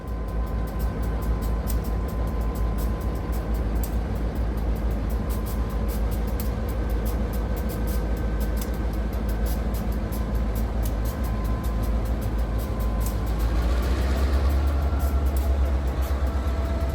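Sand train locomotive shoving its loaded cars up the track, a steady loud low engine drone and rumble throughout, swelling slightly near the end.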